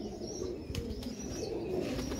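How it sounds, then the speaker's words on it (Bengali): Teddy pigeons, a fancy breed kept for sale, coo in a low continuous murmur close by, with a couple of brief wing flaps or clicks in between. "টেডি কবুতর দেখেন"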